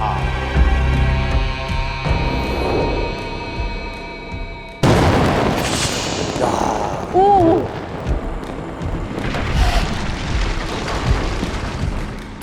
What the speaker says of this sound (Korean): 네, 진짜 폭발을 시킨 것입니다.